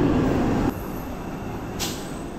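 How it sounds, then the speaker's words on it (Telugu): An orange Vande Bharat train bound for Bhubaneswar pulls away from platform 5 at Vizianagaram station, a steady low rumble of rolling carriages that drops slightly in level partway through, heard alone. "ఆరెంజ్ కలర్ వందే భారత్ భువనేశ్వర్ వెళ్ళిపోతుంది విజయనగరం ప్లాట్ఫామ్ నెంబర్ 5 మీద నుంచి"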